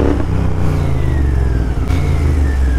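A loud Royal Enfield GT650 motorcycle with an aftermarket exhaust revs hard up close, its deep, throbbing engine note rising and holding steady throughout without pause.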